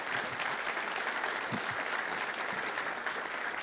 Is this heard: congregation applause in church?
yes